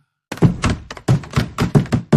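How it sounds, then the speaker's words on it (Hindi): A car door thunks in a Hindi horror story, a quick series of close, heavy dull thuds and knocks that follow a brief silence. "तभी गाड़ी का दरवाजा खुल गया।"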